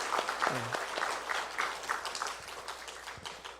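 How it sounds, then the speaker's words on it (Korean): Sunday worship congregation in a Korean church applauding to glorify God, a full, steady round of many hands clapping with a brief voice or cheer near the start, gradually thinning. "우리 하나님께 영광의 박수로 또 우리 모두에게 환호하면서 같이 한번 박수하겠습니다."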